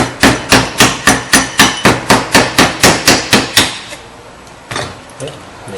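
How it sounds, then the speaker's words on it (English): About fifteen sharp, evenly spaced metal hammer taps ring out in quick rhythm, knocking rusted rear brake pads loose on a 2002 Subaru Outback, then stop, followed by a single softer knock. "So you can just tap on it with a hammer, and they fall right out."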